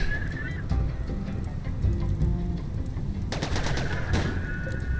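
Gunfire in the colony-simulation game Rimworld: rapid crackling bursts erupt in a dense volley midway, over a steady wash of in-game background noise.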